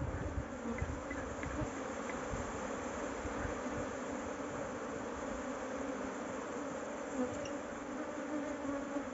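Agitated honey bees swarm during a honey harvest, making a dense, continuous buzzing that stays steady and fairly soft for the whole stretch, with no voices.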